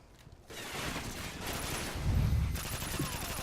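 Gunfire from an L86 LSW light machine gun in the video game Modern Warfare 3, with a dense run of automatic shots that grows heavier and louder partway through, mixed with game effects.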